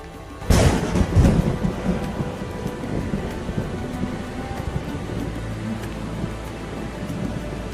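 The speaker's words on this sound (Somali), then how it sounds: "waxay la kulmayaan jawi heer sare ah, roob iyo ramxad" A sharp crack of thunder breaks out and rolls into a long rumble over steady falling rain, with no voices.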